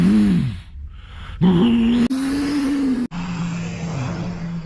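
An Audi Q7 V12 TDI diesel is revved and accelerated hard, a deep engine note sweeping up through several loud climbs with sharp gear-change breaks, heard close and alone.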